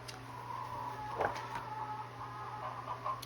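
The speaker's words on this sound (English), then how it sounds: "Sorry for my chickens" Soft hen clucks and a brief squawk rise now and then over a steady low hum, fairly close by.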